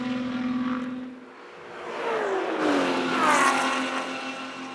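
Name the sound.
Touring class race cars racing at SCCA Runoffs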